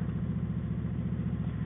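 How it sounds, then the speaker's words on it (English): A rare V4 four-cylinder cruiser motorcycle idles close by with a steady, even, throbbing rumble that stays constant throughout, with no voices over it. "This is a V4 engine"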